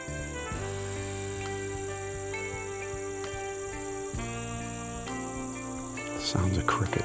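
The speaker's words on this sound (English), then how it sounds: "Sounds of crickets, catbirds." Crickets in a Pennsylvania nature preserve chirp in a faint, continuous high trill layered with steady insect tones, and a brief rustle comes near the end.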